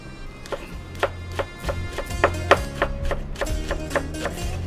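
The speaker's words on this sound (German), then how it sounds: "Schneiden wir die Zwiebel, da tun wir so heute Frühlingszwiebeln" Spring onions chopped with a knife on a board for a salmon roll filling, a steady series of sharp taps in an uneven rhythm, close and clear, with kitchen hum beneath.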